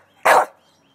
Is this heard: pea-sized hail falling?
no